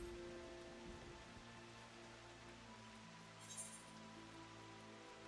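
Steady in-game rain falling over a Final Fantasy XIV Shadowbringers zone, a continuous soft hiss of drops on surfaces with faint musical tones beneath, no voices.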